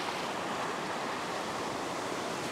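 Ocean waves wash against coastal rocks in a continuous broad roar of surf, steady and fairly loud, with no talking.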